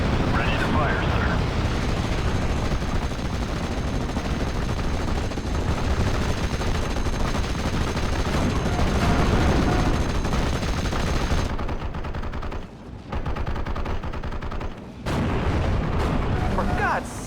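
Artillery and gunfire in Steel Division: Normandy 44, a WWII Normandy battle game, roar in a dense continuous barrage of booms, blasts and rapid machine-gun bursts, loud and close, with voices speaking under the din.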